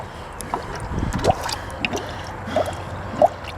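Air burping out of a Chevy radiator as it is filled with coolant, giving irregular gurgling drips and bubbly squishes at close range, a few sharper pops among them.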